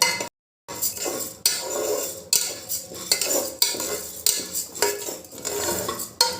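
A utensil scrapes and clinks against the metal of a pressure cooker while rice, with its water nearly dried off, is stirred in it, giving repeated close, uneven strokes with a short silent gap near the start.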